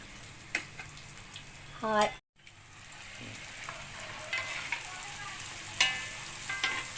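Puri frying in hot oil, a soft ongoing sizzle with a few clinks and brief scraping sounds and a momentary dropout, fairly quiet throughout.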